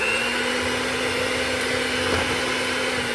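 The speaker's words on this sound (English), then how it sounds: "the mixer can also push the flour out of the bowl" Electric hand mixer whirs steadily as it works flour into cake batter for a kiwi cake with cream cheese, a continuous even motor drone at moderate volume with no talk.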